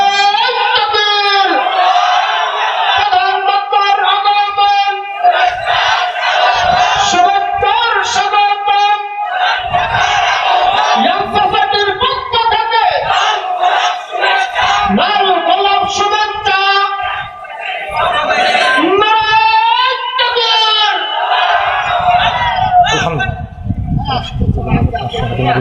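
A large crowd at an outdoor religious sermon in the rain shouts takbir, Allahu Akbar, in repeated loud rhythmic waves of massed voices, led by a preacher's call.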